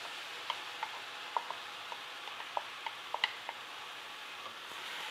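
Blended tomatoes fry with goat meat for mbuzi wet fry in a soft, low sizzle, broken by scattered small pops and ticks from spattering or stirring, with no talking.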